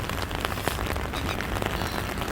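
Heavy rain pours down at a Sydney fish market, a dense, steady hiss of drops hitting surfaces with scattered louder splashes, close and continuous with no voices.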